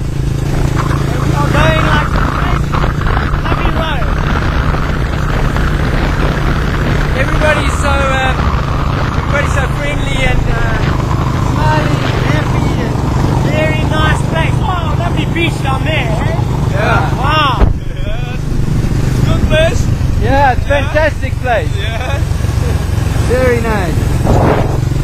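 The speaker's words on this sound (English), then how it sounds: "We're circumnavigating the island on motorcycles, eh?" Motorcycles riding around Biak island, a steady engine and road drone running throughout beneath near-constant talk, cheers and wind, with a brief dip near the end.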